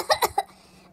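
A human voice imitating animals coughing from wildfire smoke, three quick, raspy coughs in a row, close and loud, then fading to quiet.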